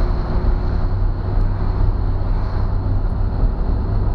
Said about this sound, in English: That's the rear end's got a little bit of whine.